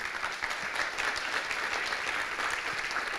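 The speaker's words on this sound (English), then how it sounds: "So round of applause," An audience at a chamber of commerce speaker event applauds its host Westmec, a steady, full round of many hands clapping at even volume throughout.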